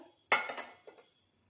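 A pressure cooker steaming dhokla is opened with the gas off: one loud metallic clank of the lid, then a softer second knock, close by in a quiet kitchen.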